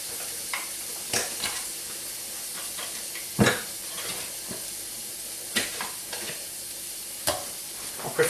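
Browned beef mince sizzling in a pan with butter, a steady soft frying hiss broken by several sharp clinks and scrapes of a utensil against the pan.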